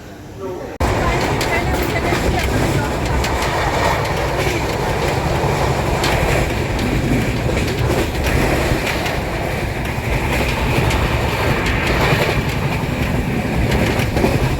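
A steady, loud rumble of a Haridwar to Delhi train at platform 4 with rhythmic rail clatter and a busy station din, continuous throughout after a sudden start.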